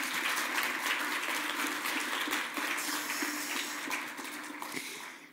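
Conference attendees at an award moment applaud steadily throughout, a thick continuous wash of many hands clapping with no voices over it.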